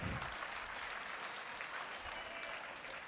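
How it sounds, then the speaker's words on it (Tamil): Audience applause at an annual meeting event, steady dense clapping from a crowd filling the whole stretch, fairly distant and even in level with no voices over it. "அவங்களுக்கு ஒரு பெரிய கைத்தட்டல் கொடுத்துருவோம்"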